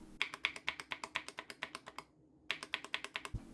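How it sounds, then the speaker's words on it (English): Quick, evenly paced keystrokes clack on a custom mechanical keyboard, then a brief pause before typing resumes and ends with a deeper, thocky press of the enter key. "I've even got this really nice Thocky enter key"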